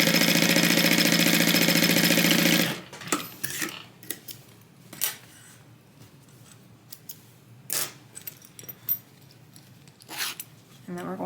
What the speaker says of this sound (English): we are just sewing these two pieces to the pocket closed